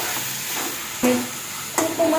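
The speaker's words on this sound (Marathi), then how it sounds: "शेंगदाण्याचं कूट टाकून छान परतून घेते।" Eggplant bharit with crushed peanuts being stirred and sautéed in a pan, a soft steady sizzle broken by a few sharp scrapes of the spoon against the pan.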